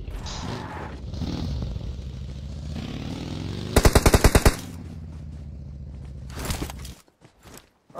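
Automatic gunfire rips out in a short loud burst partway through a shooter video game, with a second quieter burst later over general game noise and movement sounds.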